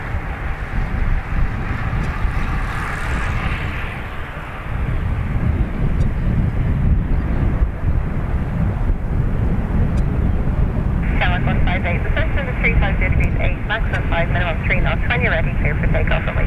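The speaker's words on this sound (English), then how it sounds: "Aer Lingus off to London Heathrow" An Aer Lingus airliner departs Dublin Airport for London Heathrow, a loud steady jet roar with wind buffeting the microphone, and a person talks over it throughout.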